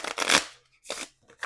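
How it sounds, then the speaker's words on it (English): Millennial Loteria cards are shuffled in a few quick riffling bursts, a long loud one at the start, then two shorter ones with brief pauses between. "So I'm going to give these cards a quick shuffle"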